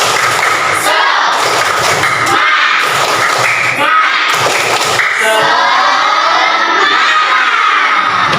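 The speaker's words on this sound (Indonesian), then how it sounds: "Kita tepuk tangan bersama-sama. Tepuk semangat." A class of students in an Islamic studies lesson doing a rhythmic group clap routine, loud, with bursts of clapping punctuated by shouted chants and cheering from the children.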